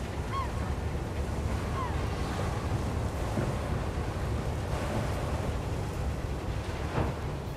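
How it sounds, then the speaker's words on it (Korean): Sea waves at the seaside near a moored boat, a steady close wash of surf and wind noise that continues without a break. "바로 이 티나가 바닷가에 딱 서서 저기 배가 정박해 있는데"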